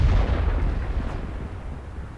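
Artillery fire in the tank game World of Tanks: a single heavy booming shot at the start, its deep rumble decaying over about two seconds.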